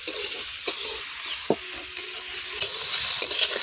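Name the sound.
onions frying in a pan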